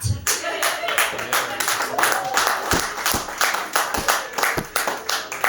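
A small crowd at a stand-up comedy show claps for the comedian, a steady patter of individual hand claps, fairly close and sustained for several seconds without talk.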